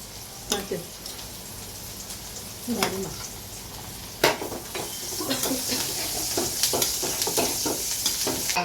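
Biryani in a pot is stirred and scraped over a continuous sizzle, with a few distinct spoon knocks and a busier mix of stirring later, speech faintly present.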